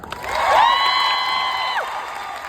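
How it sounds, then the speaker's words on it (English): An audience at a leaders' retreat bursts into clapping and cheering, with a rising whoop above the crowd noise. The mixed applause swells, then holds steady. "clap if you know who I am"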